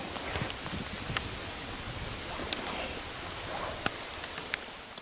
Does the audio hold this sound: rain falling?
yes